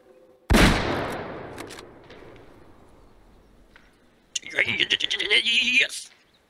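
A single loud, close hunting rifle shot in the Way of the Hunter game, aimed at a sambar deer, decays with a long echoing tail, then a burst of excited shouting follows.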